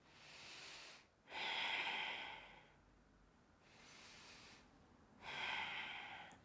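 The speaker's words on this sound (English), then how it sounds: "Breathing." Slow, deep breathing during a yoga exercise, three long airy breaths close to the microphone, each a soft hissing rush separated by brief quiet pauses, with no talking.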